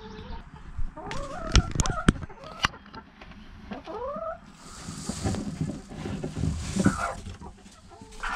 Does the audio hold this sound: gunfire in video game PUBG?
no